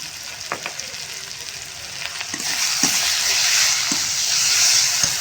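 Spice paste with turmeric and chili powder fries in a pan for murulli fish curry, with sharp spoon taps and scrapes at first, then a louder, hissing sizzle rising and holding steady.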